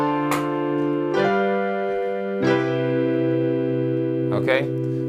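Gospel-style major seventh chords played on a keyboard, sustained stacked harmonies struck about three or four times in slow succession, clear and alone with no talking.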